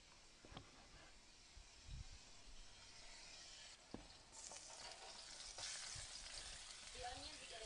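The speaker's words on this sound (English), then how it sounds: "I'm just going to brown these onions" Onions browning in a pan for nihari sizzle steadily at a quiet level, with occasional soft clatters of stirring and a brighter hiss building toward the end.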